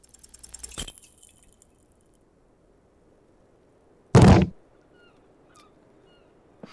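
A single heavy thud of a door being kicked in the video game Disco Elysium, short and loud, coming after a faint rustle and otherwise near silence.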